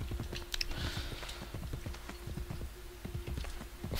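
Horse hooves clip-clopping in Assassin's Creed Brotherhood, a steady rapid trot of distinct thuds over a constant game ambience, with no talk.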